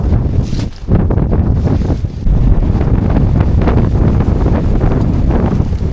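Strong wind roars across a mountain ridge at Kau King Shan in Tuen Mun, Hong Kong, buffeting the microphone with loud, continuous rumbling gusts that barely ease for the whole stretch.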